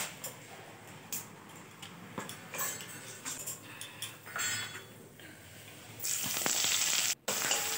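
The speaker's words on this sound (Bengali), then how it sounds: "তেলের মধ্যে তেজপাতা ফোড়ন দিলাম, সাথে লং, এলাচ আর" Bay leaf, cloves, cardamom and cinnamon crackle in hot oil in a kadai for a mutton curry, a close sizzle dotted with small pops and utensil clinks that swells into a louder, brighter hiss near the end.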